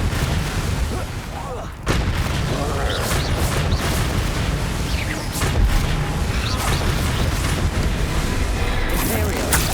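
Confringo explosive spells blasting during combat in Hogwarts Legacy, repeated booming impacts and crackling bursts layered over dense game effects, with a voice calling out spell names throughout.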